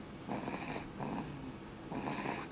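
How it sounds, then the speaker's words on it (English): A sleeping girl snores softly and close by, three slow rhythmic rasping breaths spaced about a second apart in a quiet room. "She gets the snoring from her daddy."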